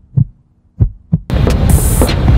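Three slow, deep heartbeat thumps pound out alone, then a dense rumbling hum with a high hiss swells in, evoking nervous tension.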